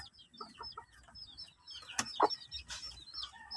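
Chicks and hens clucking and peeping close by, with soft scattered calls and a sharper cheep in the middle, amid light rustling.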